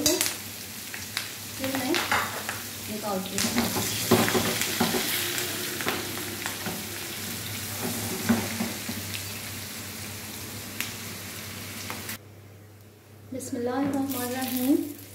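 Bitter gourd frying in a pan for karela keema, a dense close sizzle with spoon stirring clatter throughout, someone briefly talking over it, then a pause before more stirring.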